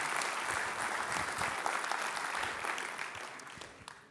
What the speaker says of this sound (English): I want to give a round of applause to all the small business owners and the entrepreneurs that are investing in our community.